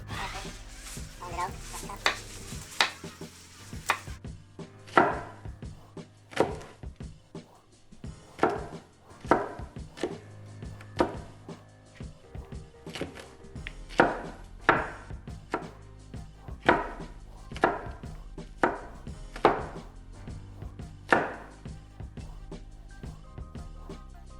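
A knife chops garlic on a cutting board in a steady series of sharp, close thuds, about one every second, with a brief rustle at the start.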